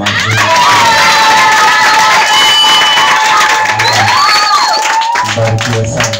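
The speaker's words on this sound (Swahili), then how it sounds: "Pigia Yesu makofi mazuri." Church congregation clapping and cheering loudly for Jesus, a dense near roar of applause mixed with high shouts and ululating voices that rise and fall over several seconds.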